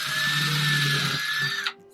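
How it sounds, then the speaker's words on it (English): A power drill bores a small hole into the top of a wooden block, whining steadily and loudly at close range for about a second and a half before the motor cuts off abruptly. "we are going to drill a small hole in the top."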